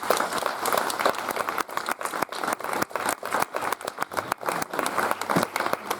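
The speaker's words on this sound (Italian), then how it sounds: "questo applauso era per Paolo" An audience at a 2024 rhyming poetry event in Bulzi gives uneven applause. Scattered claps rise and dip in bursts, close and moderately loud, with no one talking over them.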